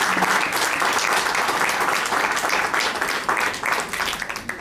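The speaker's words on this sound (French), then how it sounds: "Applaudissons l'alliance," A room full of wedding guests at a ceremony in Pointe-Noire, Congo, applauds warmly, dense clapping rising and falling in waves for several seconds.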